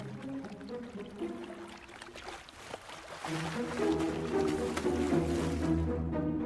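Fast-flowing river water rushing past forming ice in a freezing landscape, a steady churning wash with gurgling and splashing, continuous and fairly close, growing fuller toward the end.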